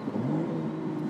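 A BMW Z4 M40i with a six-speed manual, top down on mountain switchbacks, its engine droning steadily as the throttle rolls on and off, with a faint crackle of exhaust pops.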